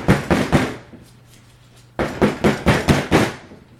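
Folded paper coffee filters banged against a surface, giving a quick burst of crisp papery thumps, a pause, then a second run of about six loud, evenly spaced bangs close by.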